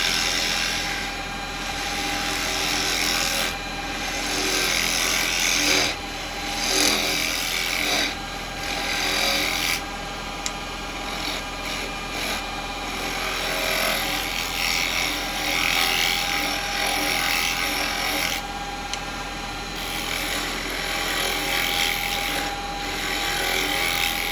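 A wooden scoop being turned on a lathe with a chisel, a continuous motor hum under rough, uneven scraping and cutting as the tool bites into the spinning wood.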